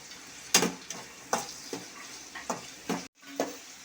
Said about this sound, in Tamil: இது ரொம்ப வதக்காமல் ஒரு 3/4 வதத்துக்கு நல்லா வதக்குங்க.